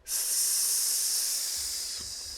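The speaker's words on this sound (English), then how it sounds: "And then breathing out on a nice S sound." A long, steady hissing exhale on a sustained S sound, close and fairly loud, slowly fading toward the end.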